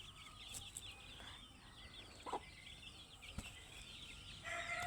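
Chickens clucking and a rooster crowing in a rural yard, faint, scattered calls over a soft outdoor background.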